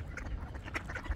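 Ducks being fed quack in quick, faint calls over a low background rumble, several short quacks within about a second.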